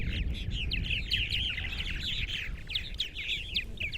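Purple martins chattering and calling on Eastern Long Island, New York, a dense run of overlapping gurgling chirps kept up for the whole stretch, fairly close, over a steady low rumble of wind or background noise.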